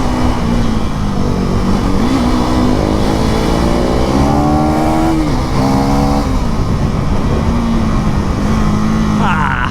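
Bajaj Pulsar NS400 motorcycle riding on a road in Jammu, its engine droning steadily with shifting pitch as it revs and eases, close and loud throughout amid road noise.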